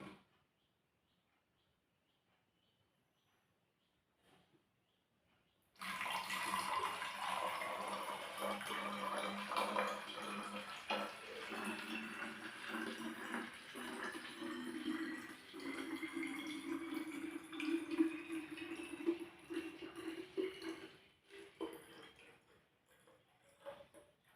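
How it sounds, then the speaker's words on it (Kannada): Water is poured into a 500 ml bottle after a few seconds of near silence, making a continuous splashing fill whose gurgling pitch slowly rises as the bottle fills, then stops abruptly. "ಬಾಟ್ಲು ಅದಕ್ಕೆ ಫುಲ್ಲು ನೀರು ಹಾಕಬೇಕು ನೋಡಿ"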